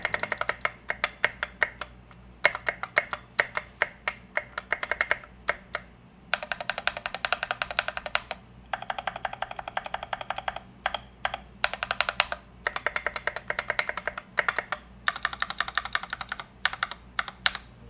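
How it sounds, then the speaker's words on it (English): Stock stabilizers rattling on an Epomaker GK96 pre-built southpaw keyboard, with bursts of fast, close-up key presses and loud clacky, rattly spacebar and long-key strikes, no talking. "here's how the stock stabilizers sound."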